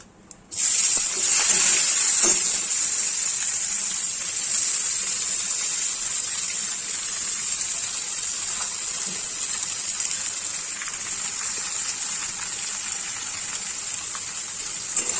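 Chopped onions hitting hot oil with fried garam masala for a fiery red Bengali chicken curry, a sudden loud hiss that settles into a steady close sizzle.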